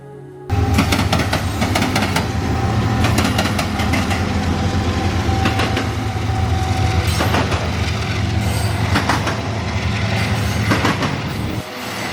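High-priority intermodal freight train rolling past at close range, a loud continuous rumble of engines and wheels with repeated rhythmic clatters of cars over rail joints, easing slightly at the end.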